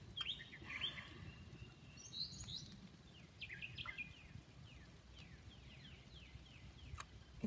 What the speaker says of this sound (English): And there's a few Tweety birds singing.